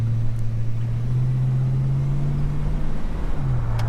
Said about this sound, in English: Let's let these cars go through.